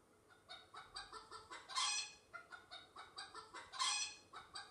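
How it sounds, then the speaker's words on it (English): A chicken clucks in a steady, rapid rhythm, broken twice by louder squawking bursts, fairly close and alone. "Chicken."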